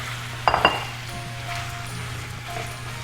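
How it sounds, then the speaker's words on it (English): Sauces being stirred into a pan of cooking food: a brief cluster of clinks and scrapes of utensil on metal up close, then a quiet simmering background with faint light taps. "Okay, so now add the sauces all around and stir."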